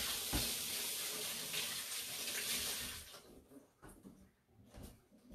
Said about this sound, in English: just rinse my hands off and grab the bowl